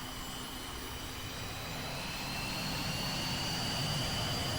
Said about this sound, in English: engine's now turned on, and it's now idling